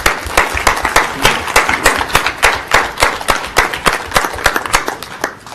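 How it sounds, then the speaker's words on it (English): An audience at a Board of Education workshop applauds committee teachers and administrators, a dense run of loud, fairly regular clapping sustained throughout, close and without speech. "Let's give them a round of applause."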